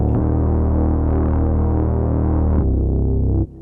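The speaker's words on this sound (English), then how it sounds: "a really deep sub bass that we can throw some distortion and probably some chorus on" A deep, distorted sub bass synth tone for an indie folk track drones loud and steady with a throbbing low hum, dropping in pitch briefly near the end before cutting off abruptly; no voices.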